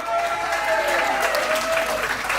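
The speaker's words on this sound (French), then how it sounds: "on peut l'applaudir" An audience at a Rock'n Guinguette vintage beauty pageant applauds a contestant with a short burst of steady, dense clapping, mixed with a few voices and a whistle-like tone.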